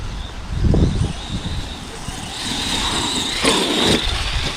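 Motor of an Arrma Gorgon RC car whines while its wheels spin on damp grass, rising and falling in short bursts of throttle close by, with the outdoor setting audible around it.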